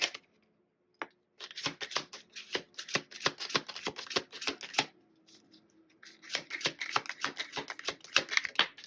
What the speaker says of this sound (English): I'll just go through the deck and see what comes out.